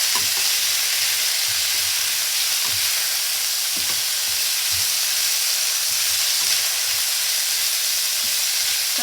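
Vegetables frying and being stirred in a home kitchen pan, a steady close hiss of sizzling oil with soft scraping and knocks from the stirring spoon, no voices.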